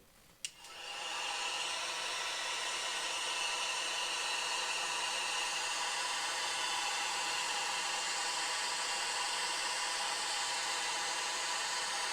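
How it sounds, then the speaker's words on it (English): A hair dryer switches on with a brief click and then blows steadily over a painted miniature, a loud continuous whoosh of air that holds without a break. "I am going to blast it now with the hairdryer again."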